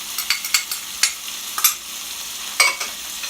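Sweet, green and bonnet peppers for saltfish buljol are tossed in a frying pan, making a run of crisp scraping clicks and rattles over a low sizzle, loud and close.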